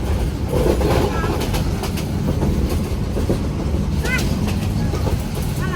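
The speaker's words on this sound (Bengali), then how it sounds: "ট্রেন চলেছে ট্রেন চলেছে" A local train rumbles along the tracks with continuous clattering wheels and occasional faint squeals, heard from inside, loud and steady, with voices in the background.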